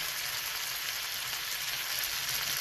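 A tuna and potato brick pastry shallow-frying in hot oil, giving a dense, steady, loud crackling sizzle with no pauses and no voices, heard close up.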